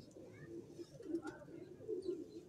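Cooing from a golden pigeon, a low, soft, rolling call repeating two or three times at a moderate level over a murmur of background noise and faint voices.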